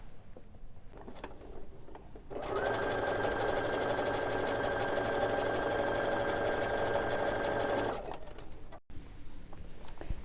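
A sewing machine stitches fabric pieces for a hot pad, running in one continuous steady whir for several seconds before stopping, close and alone, with quieter room sounds before and after.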